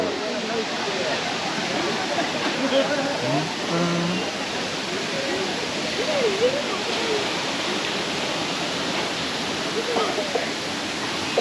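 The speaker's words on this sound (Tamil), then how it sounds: "ஐந்தருவி தண்ணி எப்படி வருது பாரு" The Five Falls waterfall at Courtallam in Tenkasi gives a steady, loud, broadband rush of falling water that never lets up, with people talking faintly over the roar.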